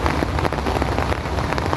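Heavy rain pouring down steadily and loudly, a dense unbroken hiss of drops hitting surfaces close by, with no voices.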